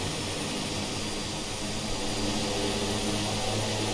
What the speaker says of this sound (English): Let's hit him with a prop wash